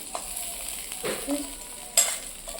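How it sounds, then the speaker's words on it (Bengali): Soft sizzling of fried shrimp being reheated in a wok, with a few scrapes and clinks of a utensil stirring, close by and fairly quiet, no talking. "আমাদের মাছটা ভাজা ছিল, এখন গরম করলাম।"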